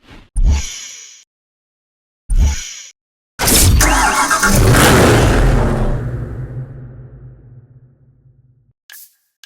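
Bugatti Veyron 16.4 engine in the Need for Speed Hot Pursuit video game: two short bursts, then a loud roaring rev that fades away over several seconds, ending with a brief blip.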